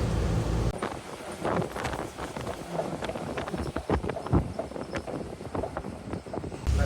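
Wind blows hard across the microphone in a continuous gusty rush, with rapid thumping and flapping underneath.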